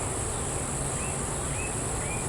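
Steady, faint insect hum from Italian honey bees working an open hive, a continuous drone with a few light rising tones, no voices.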